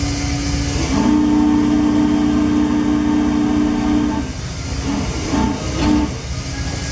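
A steady model train steam whistle blows for several seconds over constant hissing, then a few short whistle toots follow.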